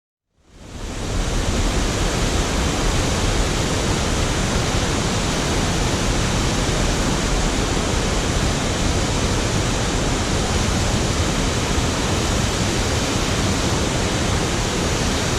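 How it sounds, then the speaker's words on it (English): Bridal Falls, a large waterfall fed by a creek flowing out of a small gorge, roars in a dense, steady rush that fades in during the first second and then holds loud and constant, with no talking. "take a look at Bridal Falls."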